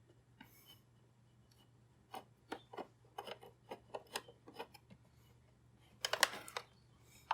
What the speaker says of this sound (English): So we're gonna remove these screws and see if we can take it apart.